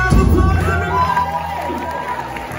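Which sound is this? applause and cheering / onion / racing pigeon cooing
applause and cheering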